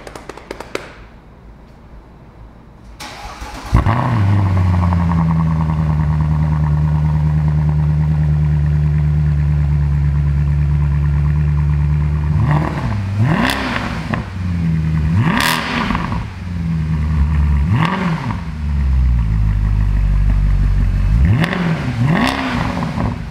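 A 2014 Mercedes C63 fitted with a Fi-Exhaust valved system starts up loud, then idles with a deep steady rumble broken by several sharp throttle blips that rise and fall, close to the car.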